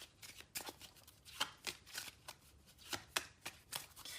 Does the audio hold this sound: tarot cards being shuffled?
yes